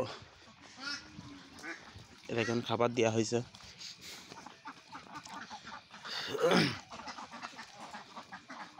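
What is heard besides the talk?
ducks quacking on a duck farm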